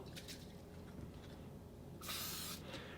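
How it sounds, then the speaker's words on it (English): A short hiss of coconut oil cooking spray into a cake pan, one burst of about half a second, close by against a quiet background. "I'm gonna spray it with just a little bit of coconut oil."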